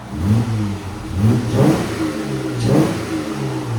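A 2014 Jeep Wrangler with a 3.6L V6 and Borla ProXS exhaust is revved close by in two or three throaty surges, each rising above a rumbling idle before dropping back.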